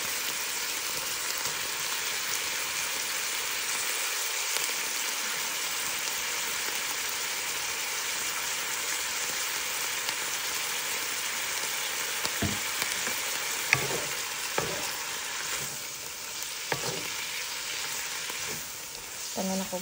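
Carrots and cabbage fry in a pan with a steady, close broadband sizzle throughout, joined by a few soft knocks and stirring clatters near the end.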